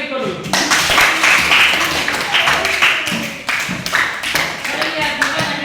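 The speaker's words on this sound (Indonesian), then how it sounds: "Tepuk tangan untuk Riko dulu." Classmates clap for a pupil in a classroom, a short burst of close, uneven hand claps mixed with people talking over them.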